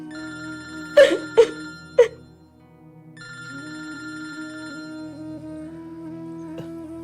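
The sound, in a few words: phone ringing unanswered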